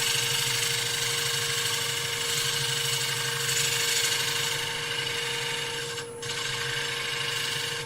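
A wood-turning gouge cuts a relief into a wooden bowl spinning on a lathe, making a steady rasping shave over the constant motor hum, with a brief dip near the end.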